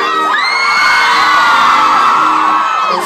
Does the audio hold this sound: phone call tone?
no